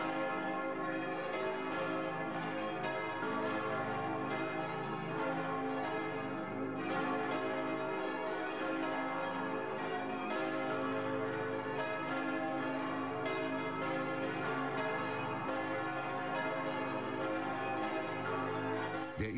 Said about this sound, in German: Sie hören die Glocken der Domkirche von Brixen in Südtirol.